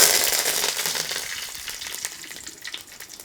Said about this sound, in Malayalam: ഇനി അടുത്തായിട്ട് നമ്മുടെ കറിവേപ്പില കുറച്ചിട്ട് കൊടുക്കാം